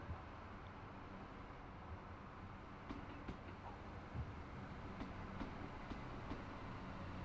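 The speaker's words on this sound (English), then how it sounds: "See if I could stop this lovely train." A Class 313 electric train running on the East Coastway line in Train Sim World 3, a low steady rumble with faint periodic clicks from the rails, fairly quiet and with no talk over it.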